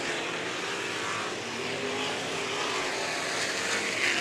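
Figure 8 race cars racing at Showtime Speedway during an outlaw Southern World Finals event, their engines a continuous loud roar that swells slightly toward the end, with no voices.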